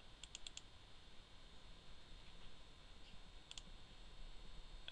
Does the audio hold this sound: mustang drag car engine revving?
no